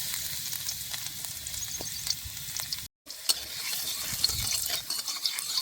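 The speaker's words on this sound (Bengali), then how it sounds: "এই তেলের মধ্যে দুটো রসুন ছেঁচে রাখছিলাম এই রসুনটা দিয়ে দেবো" Steady sizzling of crushed garlic frying in hot mustard oil, with occasional stirring clatters and a brief pause partway through.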